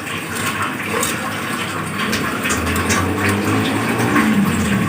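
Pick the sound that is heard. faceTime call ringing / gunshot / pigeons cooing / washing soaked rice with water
washing soaked rice with water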